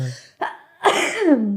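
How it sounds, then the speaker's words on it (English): A person gives a sharp, sneeze-like cough, preceded by a short breathy burst, close and loud, with a voiced tail trailing off. "That was a cough, but my coughs sound like sneezing."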